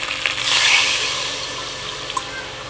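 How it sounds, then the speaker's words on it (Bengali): Water is poured into a hot wok (kadai) where legs are cooking. A short splashing pour swells and then fades into a quiet simmer, with a small drip near the end. "এবার কড়াইতে লেগে এসছে, এবার দিতে হবে জল।"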